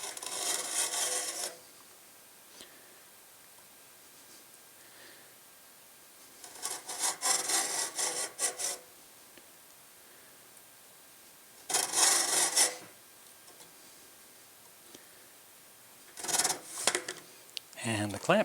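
Slow scoring strokes of a blade along a window screen frame, four separate rasping passes of one to two seconds each, spaced apart with quiet gaps, close and fairly loud.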